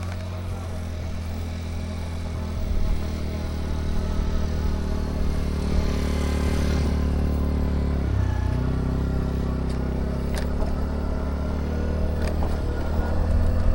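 A Mototec 60v Pro electric dirt bike being ridden, its motor giving a steady whine and hum that swells slightly as it speeds up, heard alone with wind and tyre noise.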